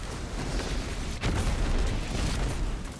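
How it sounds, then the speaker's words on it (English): Colourful ability explosions in the video game Destiny 2, a dense run of booms and bursts with one sharper blast in the middle, mixed over a continuous game soundscape. "Oh god, so many blue and purple and pink explosions."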